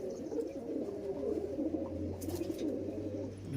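Pigeons in a fancier's loft coo softly and repeatedly, low rolling calls overlapping at close range, with a faint higher chirp in the background.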